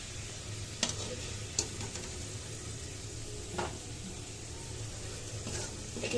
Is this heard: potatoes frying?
yes